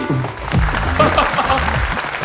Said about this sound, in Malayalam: നല്ലൊരു കൈയടി